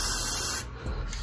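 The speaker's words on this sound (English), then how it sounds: "But I'm about to spray this joint on here." A can of hair spray hisses in a loud steady burst onto a curly wig, cutting off abruptly after about half a second, followed by a fainter short spray.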